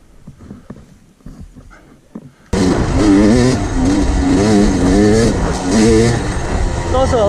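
A Yamaha YZ250X dirt bike's two-stroke engine suddenly roars up and stays loud, revving and surging while riding over a rooted trail, after a stretch of quieter sounds and speech.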